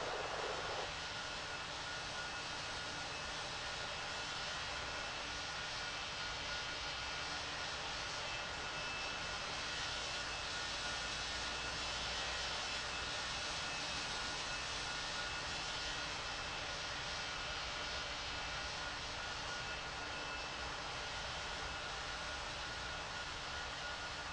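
Steady, loud jet engine roar of an airliner at an airport in the World of Airports game, a continuous broadband rush that holds unbroken throughout with no voices.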